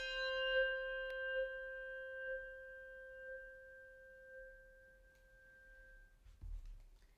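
A handbell rung with the echo technique, a sustained metallic tone with several steady partials that recurs in soft pulses and then decays slowly in a quiet room, with a low thump near the end.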